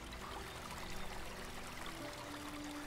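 Waterfall in the video game Elex, a steady rushing pour of water, moderately faint, with a soft tonal hum underneath.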